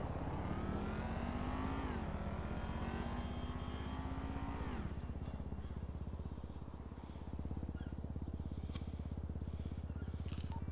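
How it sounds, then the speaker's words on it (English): A helicopter in the GTA 5 game, heard as steady rapid rotor thumping under a droning engine whine that rises and then drops away, continuous and fairly distant throughout. "Cherry, do you hear a helicopter?"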